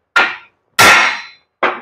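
A hammer strikes a broken axle shaft being repaired by welding, ringing out in three sharp metallic blows with short decays, close and loud with no talk.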